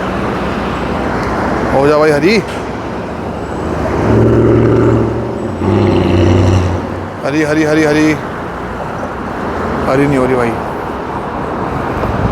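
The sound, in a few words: road traffic in Almaty, Kazakhstan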